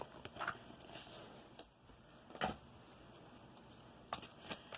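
Tarot cards being shuffled in several quick riffling bursts, close up, with a soft rustle between them and no talking.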